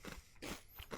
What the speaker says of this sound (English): it's got a good rice cracker backbone